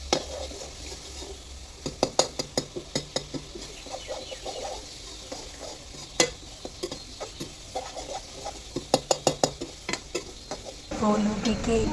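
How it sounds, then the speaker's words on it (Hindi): A metal spoon stirring in a kadhai over a low stove flame gives repeated sharp clangs in uneven bursts over a quiet sizzle, ending in a louder rushing scrape. "ये कढ़ाई ज़रूर फोड़ देगी चमचा बजा बजा के"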